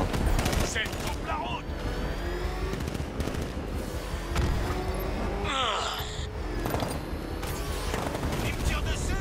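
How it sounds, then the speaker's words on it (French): Gunfire aimed at the player in a Batman video game, a steady stream of rapid shots and booms running throughout, with someone talking in French over it. "Il me tire dessus."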